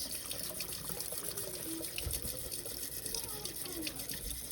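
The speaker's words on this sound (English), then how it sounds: "I'm going to fill that with water" Tap water runs steadily into a container at a kitchen sink while mushrooms are rinsed, a continuous close rushing splash that holds an even level throughout.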